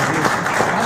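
Applause at a tournament medal ceremony, a short burst of steady, dense clapping from a crowd, fairly loud and continuous with no break.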